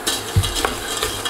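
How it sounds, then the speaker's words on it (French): A spoon stirs melting caramel coated over nuts for homemade praline, giving a brief close scrape and a soft sizzle with a couple of clinks, no voices. "Et maintenant il suffit de mélanger jusqu'à temps que le caramel refonde"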